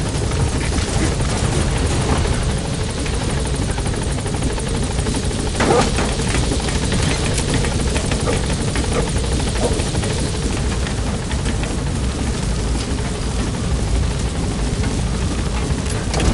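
A helicopter arrives at a landing zone in the Metal Gear Solid V game. Its rotor gives a loud, steady, close roar that stays even for the whole stretch and carries no speech.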